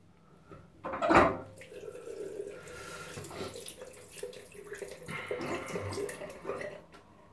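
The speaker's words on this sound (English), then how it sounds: "Make sure I rinse my blade really well." Tap water runs into a sink as a razor blade is rinsed while shaving, with a sharp splash near the start followed by quieter, uneven running and swishing water close by.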